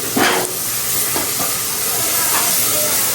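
Ridge gourd pieces tipped into a hot pan set off a steady, close sizzle and hiss that carries on throughout, with a brief stirring clatter near the start.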